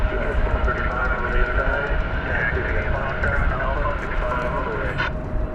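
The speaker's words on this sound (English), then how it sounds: "Another flight's coming in from, this one's going to be from Delta Airlines" A Delta Airlines jet inbound from Salt Lake City arrives at DFW Airport on a December night, a steady broadband roar that holds for the whole stretch with no clear rise or fall.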